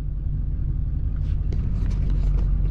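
Duramax diesel-swapped GMC Yukon with a 4-inch straight-pipe exhaust exiting in the stock spot, a steady deep low rumble throughout, close by and alone with no talk.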